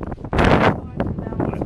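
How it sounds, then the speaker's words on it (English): Wind gusting at the top of the Elmore Mountain fire tower, a loud rushing blast buffeting the microphone in uneven surges over less than two seconds, with voices talking through it. "it's too windy up here."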